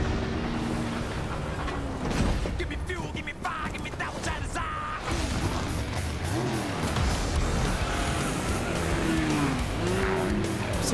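Cars race with revving engines and squealing tires in a Fortnite trailer, a loud continuous mix of rising engine pitch sweeps and skids layered over dense music and effects.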